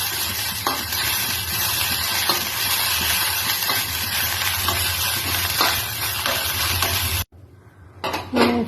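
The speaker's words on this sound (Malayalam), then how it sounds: "ഇനി ഇതിലേക്ക് നമുക്ക് സവാള ഇട്ടതിന് ശേഷം ഒന്ന് വഴറ്റിയെടുക്കാം" Onions sautéing in a pan for a soya chunks dish, a steady close sizzle with repeated clinks and scrapes of a utensil against metal, cut off abruptly near the end.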